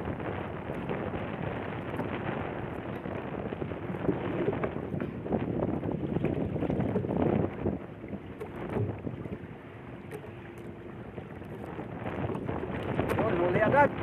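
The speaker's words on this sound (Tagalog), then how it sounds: "Medyo malakas-lakas yung hangin" Strong wind buffets a small fishing boat at sea, a steady broadband rush with continuous engine-and-water noise and scattered voices underneath, holding loud throughout.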